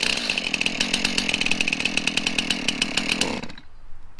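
A chainsaw running at high revs with a steady rasping buzz and rhythmic pulsing, loud and close, then cutting out abruptly near the end.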